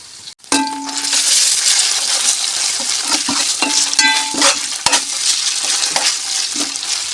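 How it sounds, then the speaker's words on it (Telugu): Ginger garlic paste sizzles steadily in a hot pan, a continuous frying hiss broken by several sharp metallic clinks of a spoon stirring against the pan, close and loud with no talking. "కొంచెం పచ్చివాసన పోయేంత వరకు వేయించుకుంటే సరిపోతుంది"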